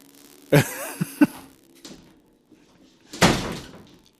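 A door is pulled shut with a couple of sharp thuds and latch clicks, followed by a louder closing bang a few seconds later, heard nearby in a quiet room.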